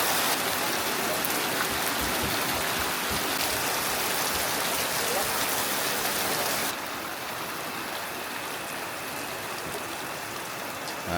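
Steady rain pours outdoors as a dense, continuous hiss with a loud, even downpour that softens slightly partway through; no voices are heard.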